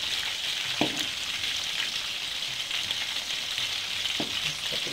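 Egg-coated shrimp frying in hot oil, a steady close sizzle and crackle with a few soft clicks of utensils.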